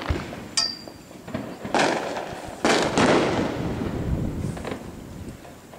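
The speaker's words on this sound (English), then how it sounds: "It's a lot of fun to go out at nighttime and see these fireworks" Several fireworks burst at a distance, sharp cracks followed by rolling booms and crackle, with wind rushing across the microphone throughout.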